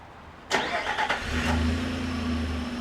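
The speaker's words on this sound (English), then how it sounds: "Truck starts" A Nissan Frontier pickup truck, remote started, cranks and catches, then settles into a steady low idle, fairly close and with no one speaking.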